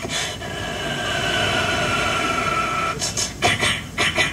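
A man vocally imitates an electric train pulling into a station: a steady, layered VVVF inverter whine that holds and shifts in pitch, then rhythmic bursts of wheel clatter near the end, loud and close.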